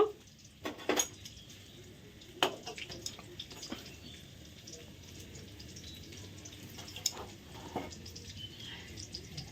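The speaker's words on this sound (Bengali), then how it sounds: "এবার আমি আস্তে আস্তে বিরিয়ানিটা কাটবো চিকেন বিরিয়ানি" Metal cutlery scrapes and clinks against a pot as chicken biryani is cut and served, with several sharp taps early on and softer scraping throughout, fairly quiet and close.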